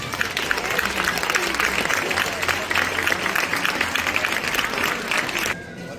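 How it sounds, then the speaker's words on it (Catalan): Audience applause at an outdoor Christmas tree lighting ceremony in Simat de la Valldigna, a dense steady clapping from a crowd lasting about five seconds before cutting off abruptly, with faint voices underneath. "aquí us demano un fort aplaudiment per a ells."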